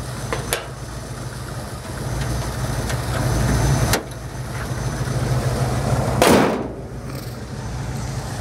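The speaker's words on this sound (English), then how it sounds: "I'm going to put the hood down and just take it for a drive" A small pickup truck with an automatic transmission runs steadily while being driven, its engine a continuous low drone with a couple of sharp clicks and a brief whooshing swell.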